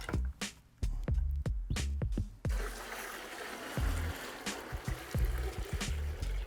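Thick lime wash sloshes and splashes as it is poured vigorously from one 5-gallon plastic bucket into another to mix it, with intermittent hollow thumps against plastic.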